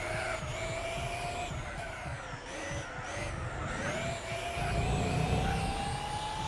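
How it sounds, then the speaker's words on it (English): The Nike One car engine in Gran Turismo 4 gives a continuous turbine-like whine with rising and falling tonal pitch over a rough rumbling roar, steady and moderately loud with no talk. "it sounds more like a turbine engine"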